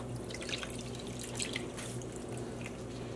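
Water with dissolved leftover dye, about three cups, being poured onto fabric, giving a steady close splashing and dripping trickle for about three seconds with no talk.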